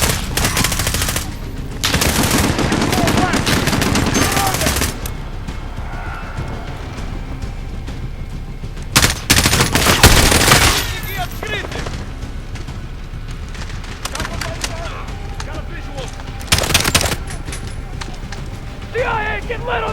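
Sustained machine gun fire in the video game Call of Duty: Modern Warfare, dense rattling bursts layered with gunshots and explosions during a battle, with shouted soldier voices over the din.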